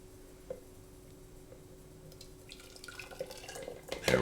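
Melted butter is poured into a brown sugar glaze, a faint, soft liquid trickle with light drips that grows slightly busier toward the end, over a quiet kitchen background.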